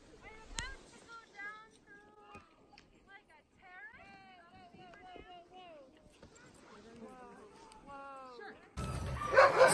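Sled dogs at a dogsledding lodge yelp, whine and bark in a busy chorus of high, wavering calls, fairly close, while people talk nearby; a louder burst of noise rises at the very end.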